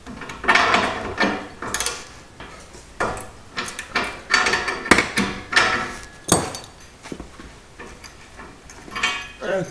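Metallic clanks and ratcheting taps ring out up close while a downstream O2 sensor is worked loose from a Subaru exhaust, a series of sharp knocks and tool clicks.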